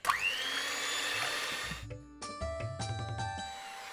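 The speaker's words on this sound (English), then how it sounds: "I'm going to be very lazy and do it with an electric whisk" An electric whisk beats egg whites to stiff peaks for a cheese and tomato omelette bake, giving a steady high motor whine that cuts off midway and is followed by clattering bowl and utensil knocks.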